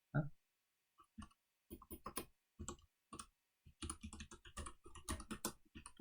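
Quiet computer keyboard typing during spreadsheet work, scattered soft key clicks in irregular bursts with pauses, close and faint, growing into a quicker run of keystrokes near the end.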